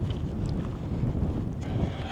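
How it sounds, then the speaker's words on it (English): Steady wind roars against the microphone on a snowy morning hike along a Montana trail, a continuous low rumble with no voices. "Now that my face is into the wind, it's a little chillier."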